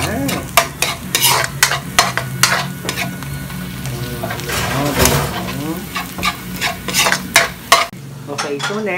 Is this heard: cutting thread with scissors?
no